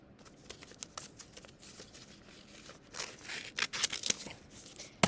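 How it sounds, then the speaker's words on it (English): Scissors snipping through paper fraction cards, two sheets at once, a series of soft close crisp snips and rustles that grow busier and louder toward the end. "when I cut one, I'm going to cut two at the same time"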